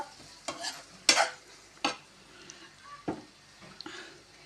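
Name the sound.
stirring chili powder into carrot bhaji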